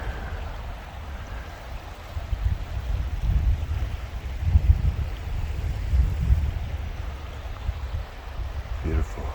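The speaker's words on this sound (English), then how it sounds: "Creek." A creek at Slate Run Metro Park, heard from a cliff-edge observation deck, gives a broad low rushing wash that swells and eases, mixed with wind buffeting the microphone.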